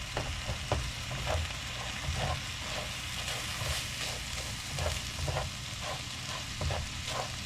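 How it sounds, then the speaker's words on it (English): Spices bloom in hot oil in a pan, a soft steady sizzle broken by regular stirring scrapes, fairly quiet and with no talking. "It's called blooming the spices."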